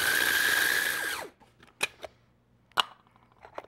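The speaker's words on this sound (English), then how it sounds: "we have to grind up some almonds. So in my little trusty grinder here" A small electric grinder whirs loudly while grinding almonds for about a second, its tone dropping as the motor winds down, followed by a few faint clicks and clatters.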